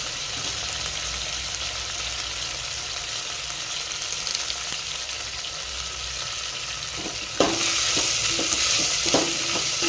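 Potatoes and curry leaves fry in a pan for an aloo fry, giving a steady, dense sizzle throughout that turns louder and brighter near the end as stirring scrapes and clinks join in.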